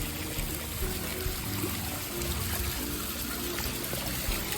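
Water trickles and splashes steadily in a botanical garden, a constant close wash of flowing sound with no pauses and no voices.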